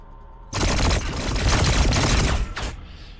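Grenade launches in Warhammer 40,000: Battlesector during a Necron versus Tau multiplayer battle: a loud, sustained roar of overlapping blasts lasting about two seconds, then one more short burst.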